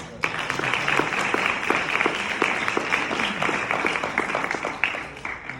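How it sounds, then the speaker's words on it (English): Audience clapping at a school board meeting as retirees are congratulated, a steady moderate applause with sharp distinct claps from a smallish room crowd, carrying on evenly throughout with no voices over it. "A round of applause there."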